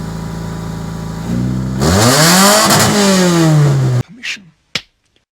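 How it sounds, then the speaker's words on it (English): A Honda CB7 Accord engine with a full aftermarket exhaust idles, then revs hard with a deep, throaty exhaust roar that rises and falls before cutting off abruptly, followed by two short bumps. "Give it some revs."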